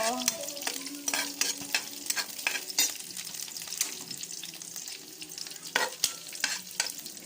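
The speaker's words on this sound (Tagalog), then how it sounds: "Nilagay ko na ang bawang, prito-prito." Garlic sizzles and crackles in hot oil while a utensil scrapes and stirs the pan in quick, irregular strokes, cooking Bicol Express.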